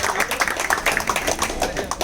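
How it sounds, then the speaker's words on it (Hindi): A crowd at a cricket league auction claps for team owner Mahmood Khan, producing a dense, steady patter of many hands that fills the whole moment at fairly close range. "एक बार महमूद खान जी का जोरदार तालियों से"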